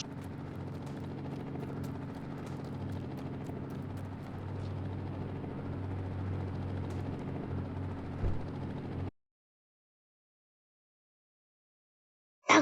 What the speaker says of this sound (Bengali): মাই গড, হেলিকপ্টার চলে এসেছে